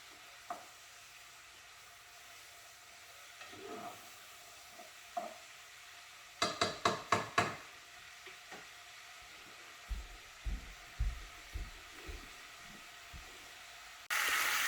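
A pot of dry chicken curry bubbles and sizzles gently at low volume, with soft scattered pops and a brief burst of clattering partway through.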